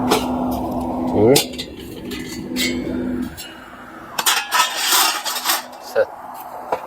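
Metal 75 mm stove flue pipes and elbows for a wood-burning stove clink and rattle as they are handled, a run of close, irregular knocks and scrapes that grows denser toward the end.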